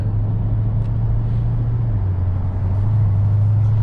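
A Dodge Challenger fitted with MFER mufflers idles with a steady, deep bassy rumble that drones on continuously at close range, with no one talking over it.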